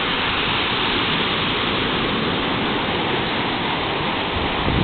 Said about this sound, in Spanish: Aquí vemos las olas, imagínense